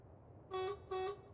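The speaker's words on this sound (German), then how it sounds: "Bitte aufhören zu hupen." Two sustained car horn honks sound in a military camp video game, each lasting about a quarter second with a short gap between, loud and close over a low background hum.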